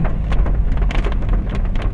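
Heavy rain pours steadily during a morning drive along Lat Phrao Road in Bangkok, a loud, continuous dense hiss with low rumble and no voices.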